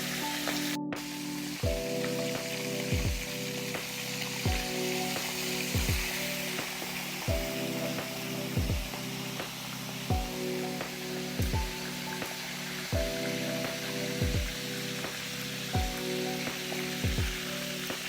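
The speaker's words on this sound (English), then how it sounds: "So while the fish is frying" Fish sizzling in a frying pan of oil with garlic and pepper, a steady close crackle and hiss with soft popping throughout, no one speaking.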